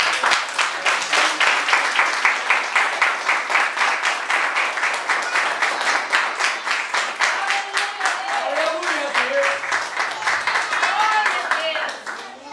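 A church congregation applauding during a worship service, a dense, sustained wave of clapping filling the room from start to end, with voices and shouts rising through it toward the close.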